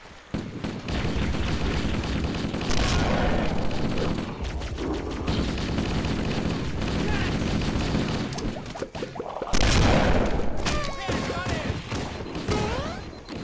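Sustained gunfire in Halo during a Legendary-difficulty firefight, dense overlapping bursts and explosions over continuous battle noise, with weapon whines and effects near the end.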